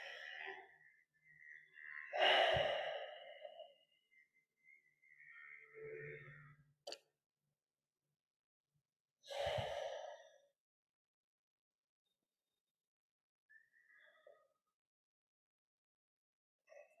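Slow, deep breaths during couples yoga, a few audible inhales and long sighing exhales separated by quiet pauses, close and soft, with no talking.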